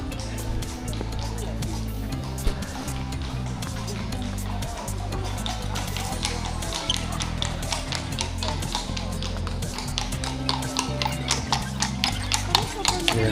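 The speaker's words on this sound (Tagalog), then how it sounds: "Hala, laki ng kabayo." Horse hooves clip-clop on a busy street in Bruges, Belgium, a steady tapping rhythm amid crowd chatter and voices talking throughout, with a busy low rumble beneath.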